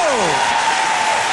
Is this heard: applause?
yes